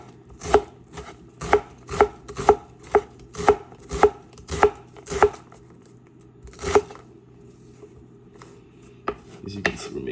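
A knife chopping onion on a cutting board for homemade lasagna lands about a dozen sharp, evenly spaced thuds in a quick rhythm, then a pause, one more cut and quiet handling noise.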